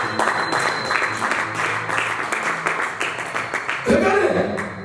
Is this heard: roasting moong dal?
no